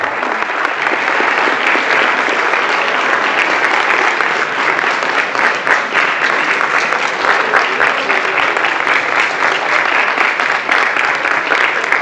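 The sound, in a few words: audience applause in a lecture hall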